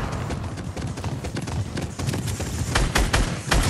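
Rapid bursts of fireworks crackling and popping in a shooter video game, a dense, loud barrage of sharp reports with heavier booms near the end.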